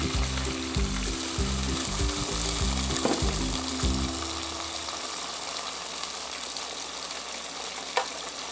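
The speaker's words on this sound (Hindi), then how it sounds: "अब इसमें टमाटर डाल देंगे और साथ अदरक लहसुन का पेस्ट डाल देंगे।" Tomatoes and ginger-garlic paste hit sizzling browned onions in a pan, a steady close hiss of frying over a droning mechanical hum that stops midway, leaving the sizzle alone with a faint clink near the end.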